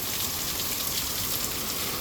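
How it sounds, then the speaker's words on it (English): Hail falling outdoors during an irrigation system installation, a dense steady hiss of pellets striking surfaces, continuous and fairly loud, with no clear speech. "Oh, hail."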